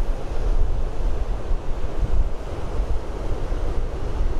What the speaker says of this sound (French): avec vraiment l'océan donc devant vous, l'océan sauvage par ici